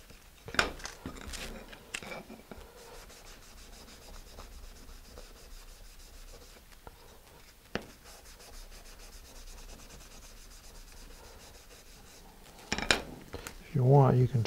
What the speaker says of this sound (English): You can try to sand the inside.